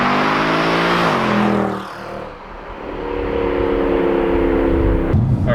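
A 2011 Mercedes C63 AMG in manual mode, its engine roaring loud and close as it revs up, drops briefly during a quick gear shift, then pulls hard again.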